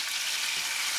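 Prawns sizzle steadily in a hot pan with red chili and chili flakes, a brief, even hiss of frying throughout.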